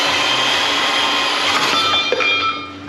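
A bandsaw grinds steadily through metal, a loud, continuous harsh whine with a bright metallic edge and a faint low motor hum beneath, close by and uninterrupted.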